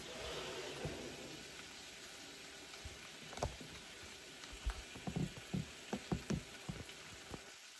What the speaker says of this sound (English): And that bacon is still frying